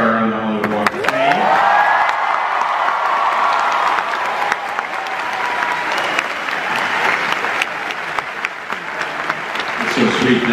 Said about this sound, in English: And this deserves a round of applause.